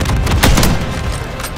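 A stun grenade going off in Call of Duty MW3 multiplayer, a single loud boom-like burst amid ongoing gunfire, close and punchy.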